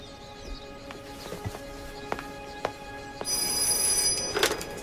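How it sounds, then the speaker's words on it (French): A telephone rings in a quiet room, several short faint rings spaced out before a louder, brighter ring swells near the end, with no talk over it. "Toto, Ninette te demande au téléphone."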